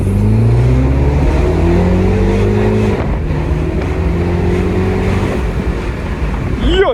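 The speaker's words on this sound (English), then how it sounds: "another clip in the daylight where I just fucking floored this car in sports mode" A Mini Cooper, floored in sports mode, accelerates hard with a loud, rising engine tone through successive gears, heard from inside the car over road and wind noise.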